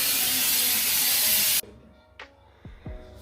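A steady, loud aerosol spray hisses for about a second and a half over 2014 Nissan Sentra brake parts during a brake service, then cuts off abruptly, followed by a few faint clicks and thuds.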